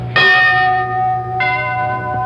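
A single gong warning signal at NORAD air defense headquarters strikes once, loud and ringing, decaying slowly, with a second softer strike following about a second later.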